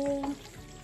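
Yam porridge with spring onions being stirred in a pot, a brief close soft sizzling scrape lasting under a second with no voices.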